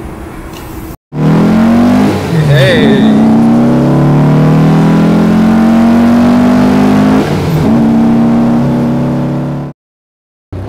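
A VW Beetle engine with an SS143 exhaust revs hard and climbs through the gears with a loud, raspy exhaust note, then cuts off abruptly; someone briefly shouts at the start.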